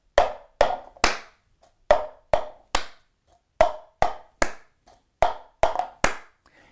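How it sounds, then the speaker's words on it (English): A cup struck twice on a table followed by a hand clap, the sharp percussive pattern repeated four times in an even rhythm, crisp and close with short pauses between repetitions. "Take the cup and you're gonna hit it two times on the table and then clap your"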